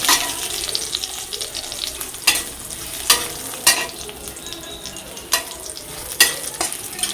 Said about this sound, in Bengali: কড়াই গরম হয়ে গেছে, দিয়ে দেবো ফোড়নগুলো। শুকনো লঙ্কা,